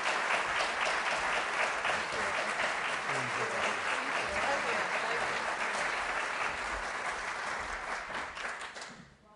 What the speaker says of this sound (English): please help me in welcoming Cristiana Pegoraro